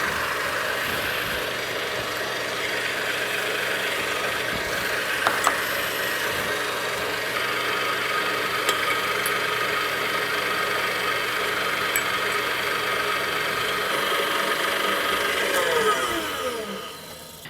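An electric mixer beats egg yolks while sugar and rum are slowly added, a steady loud mechanical whir running continuously with faint clicks and a slight rise near the end before it winds down.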